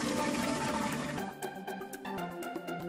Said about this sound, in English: continues to fill the wine jars with water